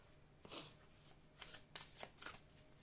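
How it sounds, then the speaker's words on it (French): Tarot cards are shuffled by hand at close range, producing a few short, soft riffling bursts spaced irregularly over quiet pauses. "Alors, je vais prendre une carte ici."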